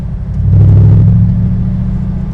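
Engine of a 2016 Morgan Aero 8 Roadster resonating as the throttle is worked; a loud, close, deep droning rumble that swells briefly and then holds steady, heard from inside the car.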